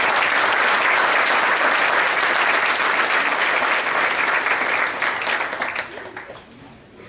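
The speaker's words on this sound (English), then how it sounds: "Could we give those people a round of applause?" Dense, loud audience applause at a university sports hall of fame induction luncheon, sustained for several seconds before tapering off into scattered claps.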